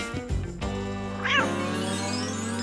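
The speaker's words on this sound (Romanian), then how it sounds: "Oh, e o pisicuță adevărată!" A kitten meows once, close and clear, over steady background music with a few thumps before it.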